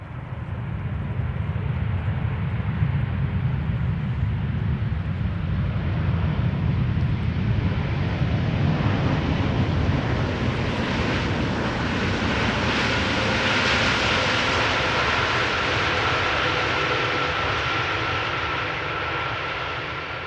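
A KLM Greenliner jet arrives at Amsterdam Schiphol, its engines giving a loud, continuous roar that swells slightly and then eases toward the end.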